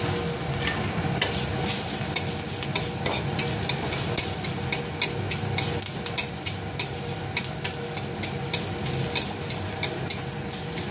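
Raw onion, dried chilli and nigella seeds frying in a pan, a steady loud sizzle with regular scraping stirs ticking through it, no talk.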